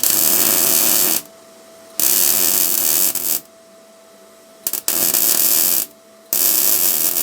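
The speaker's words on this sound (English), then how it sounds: "I'm going to try and weld straight into the rust." An R-Tech MIG181 MIG welder laying bursts of weld straight into rusty thin metal, a loud crackling buzz in several bursts of about a second each, separated by short pauses with a faint hum.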